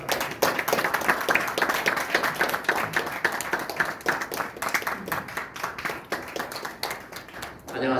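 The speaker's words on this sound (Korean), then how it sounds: "박수로 부탁드립니다." Applause from a lecture audience welcoming a company chairman to the podium, a steady patter of hand claps lasting the whole stretch with murmuring voices mixed in underneath.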